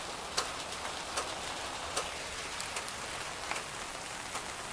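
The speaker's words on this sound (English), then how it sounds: "Now it's really raining." Steady rain hiss with scattered louder drops tapping a nearby surface every second or so, no voices.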